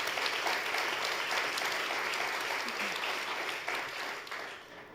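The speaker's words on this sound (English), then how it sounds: "Give them a nice round of applause to get us going." An audience at a climate and business panel event applauds the speakers, a dense steady clatter of many hands at moderate distance that thins slightly toward the end, with no talk over it.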